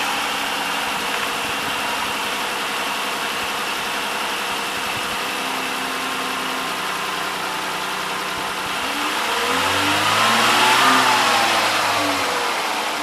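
A 2011 Dodge Charger 3.6 engine running smoothly after a ticking fix, a steady close idle hum that rises into a brief rev and eases back down near the end.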